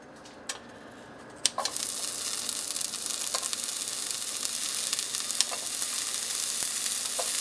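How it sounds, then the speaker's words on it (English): Applewood non-cured bacon hits a hot skillet after a couple of knocks, then crackles in a loud, steady sizzle with sharp popping spatters over several seconds. "So I'm going to start off with the Applewood non-cured bacon."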